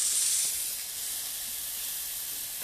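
Steady, close sizzling hiss from thin-cut pork chops frying in a pan, slightly louder at the start before settling into an even crackle.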